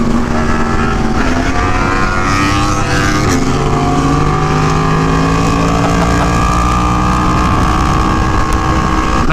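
A group of sport motorcycles, including an Aprilia Tuono V4 Factory, a Yamaha R1 and BMW S1000RR and M1000RR, rides together with a loud, continuous engine drone and shifting harmonic whine, close and steady throughout.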